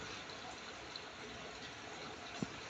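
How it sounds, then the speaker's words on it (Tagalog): Heavy rain pours down as a dense, even hiss with one faint tap partway through. "ang lakas ng ulan."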